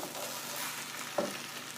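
Italian sausage stir-frying in a pan gives a steady, close sizzle that runs the whole time, with one brief stirring scrape near the end.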